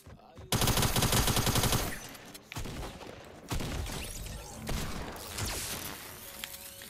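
Rapid automatic gunfire in Fortnite on Nintendo Switch, a dense loud burst of shots followed by further volleys and single cracks with game effects, no talk.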